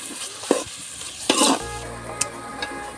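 A paste of ginger, garlic and dried red chillies is stirred into frying onions for a desi chicken curry: a few sharp utensil scrapes and clatters, then a steady close sizzle, with no talking.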